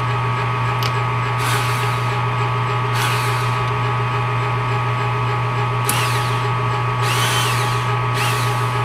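A power drill whirs steadily throughout, a constant motor drone with a few brief higher-pitched surges as it bites in, fairly close, while making a spade drill holder.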